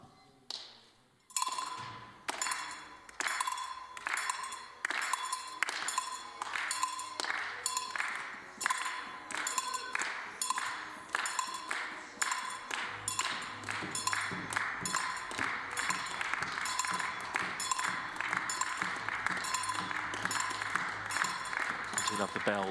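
Spectators at a 10m air rifle mixed team event clap and tap on chairs in a steady, rhythmic beat that keeps going throughout and builds slightly in density toward the end, with faint commentary voices underneath.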